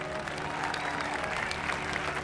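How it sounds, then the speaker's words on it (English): Crowd applause from a Star Wars Ahsoka series scene in which a speech is given to an assembled crowd: a continuous, fairly faint wash of clapping with no break. "even when sounds of applause are heard on the soundtrack"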